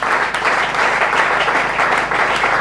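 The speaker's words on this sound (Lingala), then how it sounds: "acclamez pour la gloire de Dieu" A church congregation bursts into sustained, dense applause that stays loud and steady throughout, with no break or lull.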